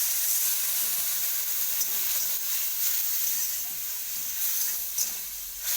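Water is poured over green chilli and chilli powder frying in oil for a fish tel jhal curry, setting off a loud, steady hiss and sizzle that carries on unbroken, with faint stirring underneath.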